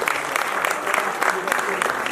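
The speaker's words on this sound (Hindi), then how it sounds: "एक बार जोरदार तालियां बजाइए," A crowd at a theater festival award ceremony claps steadily, a dense burst of applause filling the room at close range.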